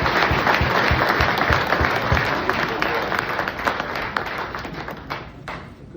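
Audience applause at an awards event honoring a plumbers union business manager, a dense, steady wash of clapping from a crowd that slowly tapers off over several seconds.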